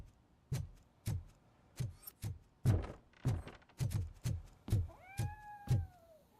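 A cat in the video game RoboCop: Rogue City meows again and again, roughly every half second, in a clear, close, evenly spaced run of about a dozen calls, without speech.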